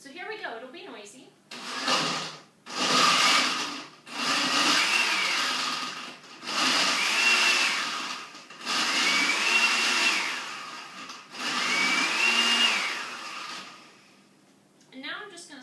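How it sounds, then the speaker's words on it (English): A kitchen blender pulses a fruit smoothie in about five loud, whirring bursts of a couple of seconds each, separated by brief pauses, with a voice speaking during the gaps. "I'm going to pulse this a few times. So here we go. It'll be noisy."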